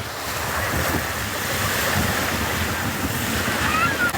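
Ocean surf at Kondoi Beach on Taketomi Island, Okinawa, washes in a continuous hiss and rumble, mixed with gusty wind buffeting the microphone.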